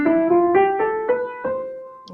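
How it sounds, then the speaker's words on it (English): A major scale played slowly upward on a pitched instrument, eight clear sustained notes rising one after another in even steps, alone with no talk. "So a normal major scale in Western music would sound like this."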